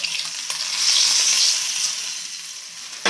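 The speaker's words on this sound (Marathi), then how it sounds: "हा सुरसुरीत तडका आपण आपल्या या दडप्या पोह्यांवर घालून घेऊया" Hot tempering (tadka) poured over dadpe pohe crackles into a sharp sizzle that swells and then fades, with a few small clicks and a clatter at the very end, and no voices.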